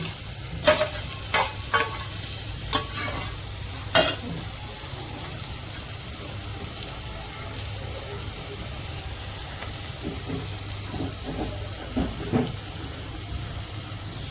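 Eggs and soybean fry in oil in a pan with a steady close sizzle and hiss; a few sharp spoon knocks against the pan sound early on, and more light clinks follow later.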